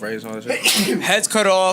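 A single short sneeze from a man in a casual conversation, surrounded and partly overlapped by close talking voices.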